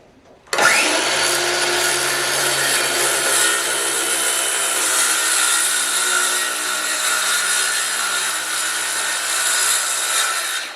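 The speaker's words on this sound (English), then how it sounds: "I like using a square and a circular saw." A circular saw spins up and cuts through a wide piece of wood in one long, loud, steady whine lasting about ten seconds before winding down.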